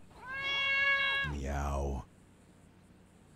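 A voice imitates a cat meowing, one long drawn-out, strained meow followed by a lower growling tail, loud and close before trailing into quiet.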